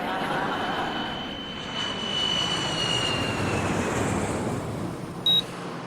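An airplane in flight drones with a steady, broad engine roar and a faint high whine, continuous and even as if heard from inside the cabin, with a brief click near the end.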